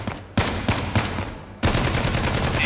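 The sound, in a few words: distant gunshots in a tactical shooter video game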